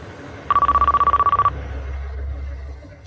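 An in-car phone in a 2001 Jaguar S-Type rings for an incoming call, a rapid electronic trill of about a dozen pulses lasting one second, loud over a low cabin hum, with no talking.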